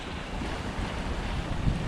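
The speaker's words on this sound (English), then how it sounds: "That means the wind's coming off the land." Gusty wind buffets a Hallberg-Rassy 54 sailboat off the Exuma cays in the Bahamas, a close rushing roar with microphone buffeting and a stronger gust near the end, without speech.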